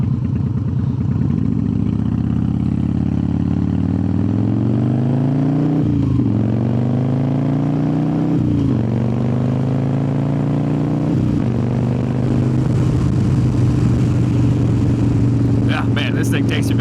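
A 2003 Harley-Davidson Softail Standard fitted with a Screaming Eagle exhaust rumbles loudly and close, revving up and easing off through several rising and falling pulls before settling back, with no talk over it.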